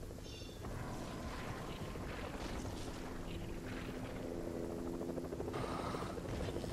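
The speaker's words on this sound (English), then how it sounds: "there's your helicopter." Video game helicopter whirring with a steady rotor drone and wind-like rush, constant at moderate volume, with a few brief tonal game effects layered over it.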